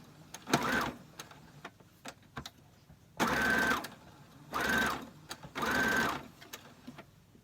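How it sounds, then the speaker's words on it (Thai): A sewing machine stitches stretchy fabric in four separate bursts of rapid, buzzing mechanical stitching, each lasting about half a second to a second, with quiet pauses between them. "เวลาเย็บก็ประคองมันหน่อยนะคะ"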